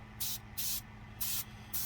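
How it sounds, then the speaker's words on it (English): Airbrush or spray can hissing in four separate bursts as a color coat of paint goes onto a 1/25 scale 1970 Baldwin Camaro model car body, each burst steady and close with quiet pauses between. "Want to make sure I spray everything thoroughly."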